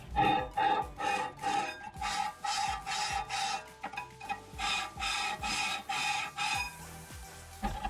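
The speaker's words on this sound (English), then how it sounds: "Use a file to clean off rust or other deposits from the brake pad rails and the rotor." Rust is filed off the rear brake pad rails of a Volkswagen Golf MK7 in quick, rhythmic rasping strokes, each scrape short and close, repeated steadily with brief gaps between passes.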